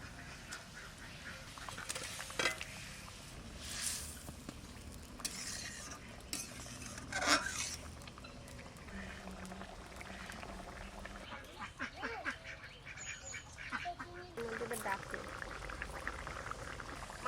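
Pieces of rohu fish cook in a boiling tomato broth, a soft, steady bubbling with occasional stirring clinks and splashes, fairly faint and close, with a voice speaking at times.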